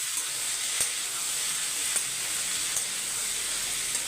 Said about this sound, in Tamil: அப்படியே வதக்கி விட்டுருங்க